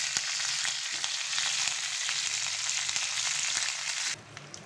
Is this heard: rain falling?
no